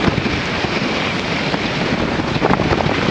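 Strong wind of about 20 to 25 knots buffets a sailboat off Georgetown, a loud, steady rushing roar with gusty flutter and no voices.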